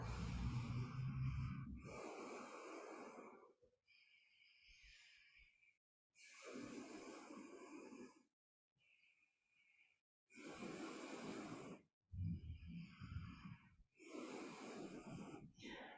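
Deep, full breaths taken during a yoga flow class, several long inhales and exhales in a slow, steady rhythm, close and fairly soft, with short quiet pauses between them.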